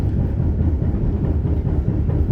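Jaka Tingkir economy-class train rolling toward Kroya station in Indonesia, heard from inside a passenger coach as a steady, loud, low rumble that holds evenly throughout, with no voices.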